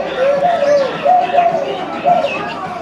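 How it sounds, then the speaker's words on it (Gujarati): A dove coos nearby in three soft, rounded phrases, each rising and falling, separated by short pauses against quiet background noise. "ડવ એટલે હોલો."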